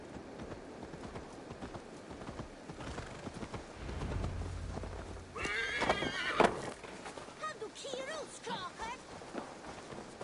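Hooves clop at a steady pace in Assassin's Creed Valhalla, then a horse whinnies loudly in the middle, with soft background ambience throughout.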